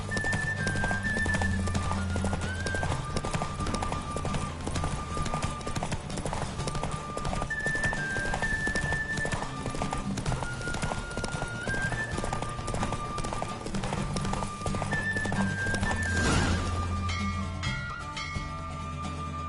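Hooves of a galloping horse in a race in The Witcher 3, a fast continuous clip-clop rhythm running throughout, loud and close, with game music tones and occasional whinnies mixed in.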